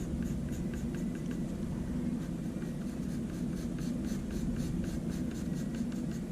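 Continuous scratchy strokes of a pencil rubbing back and forth over paper, close up, with a soft rhythmic pulse and no talking.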